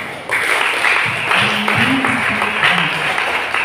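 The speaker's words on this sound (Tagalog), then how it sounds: "Malakas na palakpak kay Elsie." Loud applause from a congregation at a religious gathering, steady clapping over several seconds with voices and cheering mixed in throughout.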